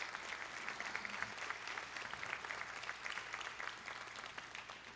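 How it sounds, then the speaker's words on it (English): Faint, even applause from a convocation audience for donors, a continuous patter of many hands heard from a distance and holding steady throughout. "a little bit of applause for our donors"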